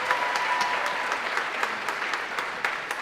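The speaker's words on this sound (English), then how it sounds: "I think you should give them one more round of applause." Audience applause for a school choir, a dense, steady wash of clapping from a crowd throughout, fairly loud and continuous with no talk.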